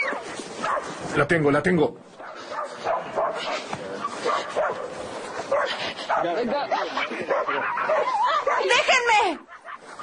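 Dogs barking and yipping excitedly amid shouting voices, close and chaotic, with whimpers breaking through the commotion.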